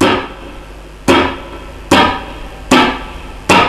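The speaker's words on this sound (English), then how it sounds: "Okay, so that's the chop, that's how it works." Four sharp percussive palm-muted guitar chops, each a quick bright attack that rings briefly and decays, spaced roughly a second apart with quiet between them.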